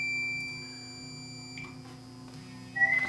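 A multimeter's continuity tester sounds a steady high electronic beep while probing the conductors of a headphone jack on an LG 37V3500 TV, with a fainter tone at the end, close and moderately loud over a low hum.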